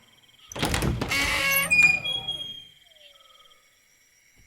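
Door of a house being opened by an old woman in an animated horror story, heard as a loud creaking, scraping sweep with a shrill squeal that trails off into quiet.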